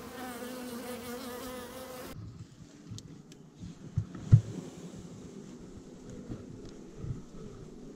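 A honey bee swarm hums inside a swarm trap being transferred to a hive, a soft continuous buzz with wind noise, after a brief stretch of music at the start, with a few close bumps and no talking.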